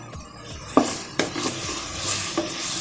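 Garlic and ginger sauté in a pan, a light sizzle punctuated by a few sharp utensil taps and scrapes against the pan, close and brief.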